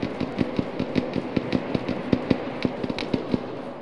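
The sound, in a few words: gunfire at helicopter in video game Arma 3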